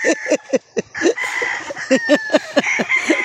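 Gamefowl chickens and roosters being vaccinated as breeding stock cluck and call in a steady run of short, close, overlapping bursts that continue throughout.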